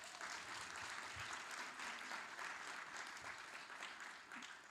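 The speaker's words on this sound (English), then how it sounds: "Let's just do a big round of applause for the SIPEC team." A conference opening ceremony audience gives a round of applause, a dense even wash of many hands clapping, heard faintly from a distance and steady throughout.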